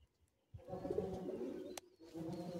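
Close, low cooing from Siya-type tournament pigeons rolls on in warm, murmuring phrases, broken by a brief sharp click and a short lull before the cooing resumes.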